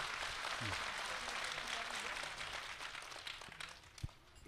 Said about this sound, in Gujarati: જોરદાર તાળીઓથી આપણા સમુદાયના એ પરિવારોને આપણે વધાવીએ.